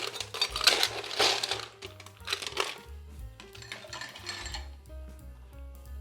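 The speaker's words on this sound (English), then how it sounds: "Let's put a lot of ice in here." Ice cubes clatter into a mixing glass for a Martinez cocktail, a burst of bright clinks and knocks in the first few seconds that then thins out, with steady music playing underneath.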